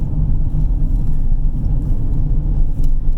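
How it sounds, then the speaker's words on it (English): Heavy trucks drive up and down a landfill road, a loud continuous low engine rumble and road roar close by, steady throughout with no voices. "there's some intense trucks coming up and down"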